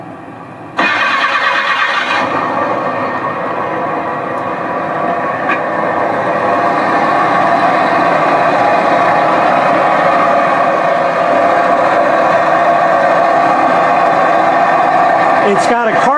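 A car with a carbureted Iron Duke engine warm-starting: a brief crank, then the engine catches and settles into a steady, rough, loud idle close by, with a voice talking over it.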